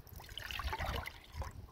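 Water trickles softly into a camping cup outdoors, a thin steady pour heard close and faint, with a brief livelier splash near the end.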